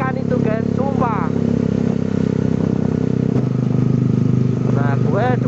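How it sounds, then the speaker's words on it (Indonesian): A Yamaha Mio motorcycle left running alongside another bike, a steady close engine idle with some clattering and a few brief squeaks over the top. "Ini yang motor Mio sama motor Ericnya masih nyala."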